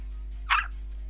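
A person imitates a dog's bark with a single short, sharp woof-like vocal burst, close up against a quiet room with a low steady hum.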